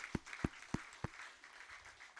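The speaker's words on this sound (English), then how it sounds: "Clap well, now that hand can sound better" At an audio engineering alumni event, four sharp, close hand claps land about a third of a second apart, then give way to softer, scattered applause from the audience.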